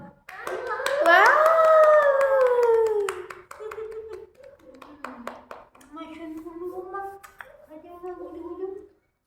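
Hands clap in scattered, light claps alongside a sing-song adult voice talking playfully to a child, close and fairly loud.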